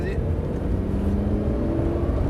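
A Lamborghini engine holds steady, accelerating under load during a track driving lesson, a continuous close drone with rising harmonic tones and a faint instructor's voice underneath.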